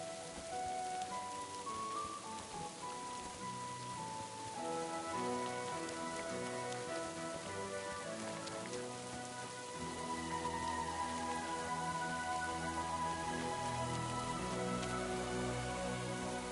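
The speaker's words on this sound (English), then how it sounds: "Oh, and it's raining." Rainfall in Kingdom Come: Deliverance II keeps up a constant hiss and patter throughout, growing slightly fuller partway through, with no talking over it.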